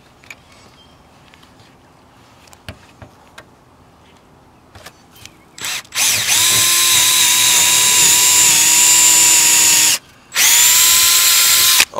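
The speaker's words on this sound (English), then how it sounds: "Drill my hole." A power drill bores a hole into a roof for a solar panel mount, running loud and steady in two long bursts with a short pause between, after several light taps and clicks.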